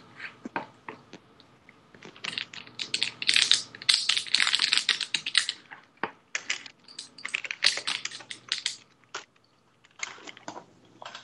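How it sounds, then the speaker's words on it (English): Rapid clicking of keys on a computer keyboard, picked up over a voice call, comes in bursts of quick irregular taps with short pauses, fairly close and alone with no talking. "Somebody's typing."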